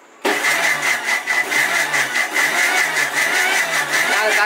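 An electric mixer grinder starts up abruptly after near silence, then runs with a loud, steady motor whine and rhythmic pulsing churn, close by and alone.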